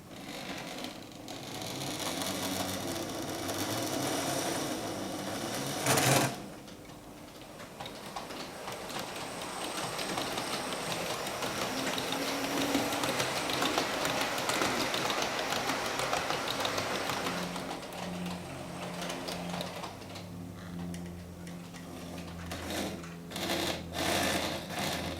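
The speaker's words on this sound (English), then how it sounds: "This is starting off with the train in partial tilt on the rear and the front, so let's have a look at how she operates." Hornby model tilting train's small electric motor whirring steadily as it runs along the track, a continuous mechanical buzz close up with a brief knock near the start and some fluctuation toward the end.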